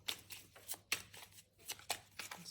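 Tarot cards shuffled by hand, soft quiet riffling in a rapid run of short bursts, close up with no talk.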